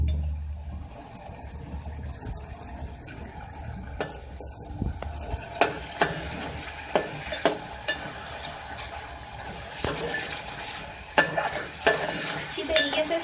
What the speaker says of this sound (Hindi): दही डाल के भी आपने इसको फिर से और भूनना है।